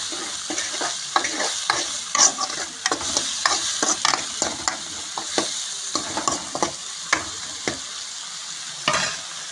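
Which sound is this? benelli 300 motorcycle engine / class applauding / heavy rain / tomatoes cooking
tomatoes cooking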